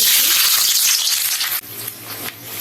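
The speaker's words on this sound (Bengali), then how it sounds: "কড়াইয়ে তেল দিয়েছি তেল গরম হয়ে গেছে এবার দেবো পেঁয়াজ" Onions go into hot oil in a wok for a dish of goat tripe and liver and sizzle loudly with a broad hiss, easing to a quieter steady frying after a second or so.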